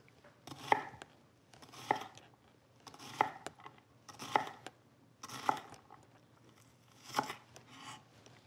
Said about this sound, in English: line everything up, and then make the cuts